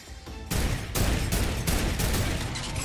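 Rapid turret gunfire in the video game Fortnite, a loud, dense burst of automatic shots that starts abruptly and keeps hammering steadily, with two turrets trading fire.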